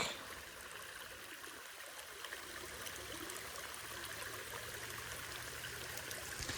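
Water trickles and flows into a pond full of leaves and muck, a soft continuous babbling stream sound at low level with no voices.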